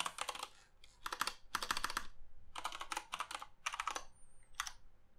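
Quick bursts of keystrokes on a computer keyboard entering a fastboot command, in about seven close, clustered bursts separated by short pauses, with no talking.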